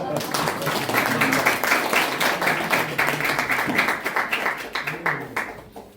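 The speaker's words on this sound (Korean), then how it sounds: "박수 한번 보내주세요." A crowd claps steadily for several seconds at a political campaign launch ceremony, a dense patter of applause that fades off near the end.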